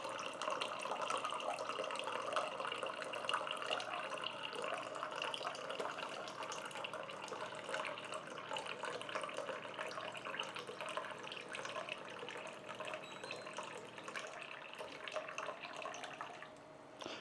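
Steady stream of water dispensing from a Vonwater 7-stage countertop reverse osmosis filter system into a container, a continuous close pouring and filling sound that runs without a break, then briefly changes near the end.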